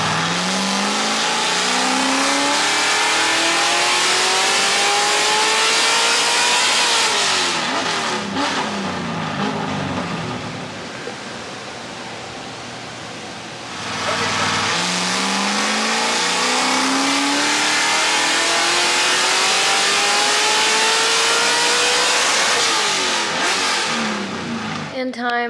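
C6 Corvette drift car engine revving hard on a dyno on Ignite Red racing fuel, loud sustained pulls with rising pitch sweeps, a brief drop in the middle before another full pull.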